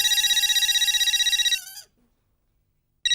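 A phone rings with a rapid electronic trill for over a second, stops into silence, then the ringing briefly starts again at the end.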